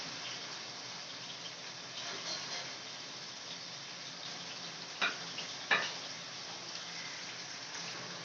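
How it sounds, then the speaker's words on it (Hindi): Chopped onions fry in hot oil for chicken chow mein, giving a steady, moderate sizzle with two sharper crackling bursts partway through. "तेल जो है हमारा गर्म हो चुका है। अब हम जो है इसमें सबसे पहले अपनी प्याज ऐड करेंगे"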